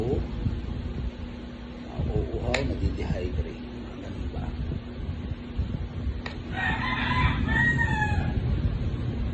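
A rooster crows nearby, then hens cluck and squawk over a steady low mechanical hum, with a few short calls scattered through.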